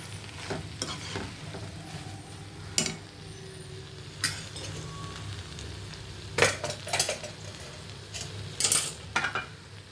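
Spoon stirring eggplant and coriander curry through oil in a pan: scraping strokes and clinks recur over a steady low sizzle, fairly close, with no voices.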